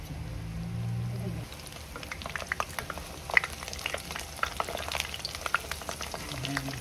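Maruya banana fritters frying in hot oil until brown, a steady soft sizzle with small crackles and pops, a low hum at the start and end, and no talking.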